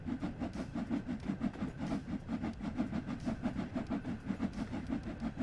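A train rolls steadily along the Liverpool to Crewe route in Train Sim World 3, with rhythmic clickety-clack of wheels over rail joints repeating fast and evenly under a continuous low rumble.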